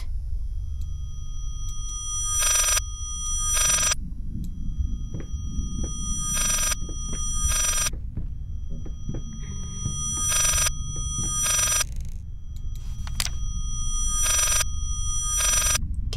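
A telephone rings in the horror video game Layers of Fear, sounding in regular paired bursts of bright bell tone over a low rumbling ambience, loud and close, with no voices.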